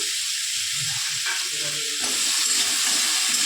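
Tomatoes go into a hot frying pan for a rohu fish curry with papaya and potato, raising a loud steady sizzle and hiss over low stirring noises.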